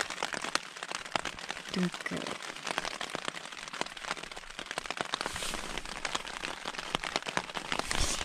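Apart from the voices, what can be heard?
rain on a tarp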